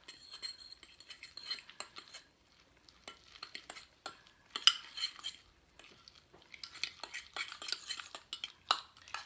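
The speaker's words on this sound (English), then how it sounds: "I'm just going to take my fork and mix all this until smooth" Fork mixing mashed egg yolk salad with pepper in a bowl until smooth, light scraping and clinking strokes in an irregular rhythm, close and fairly quiet.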